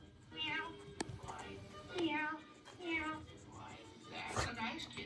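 A cat gives about four drawn-out meows in a row at moderate volume, each rising and falling in pitch.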